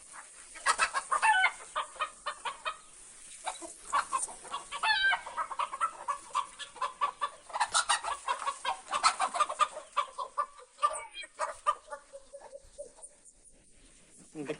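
Chickens cluck and squawk in a feed-and-water area, with many birds calling in busy overlapping bursts close by. A faint voice murmurs now and then beneath the flock.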